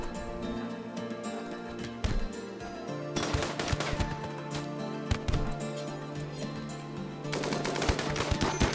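Rapid bursts of automatic gunfire from RimWorld combat, clustered volleys and single shots firing one after another at steady loudness, with no voices.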